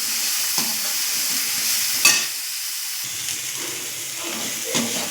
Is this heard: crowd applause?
no